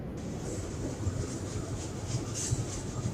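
A train passes at a distance, a steady low rumble with faint rhythmic clatter running the whole time, heard during an outdoor group outing.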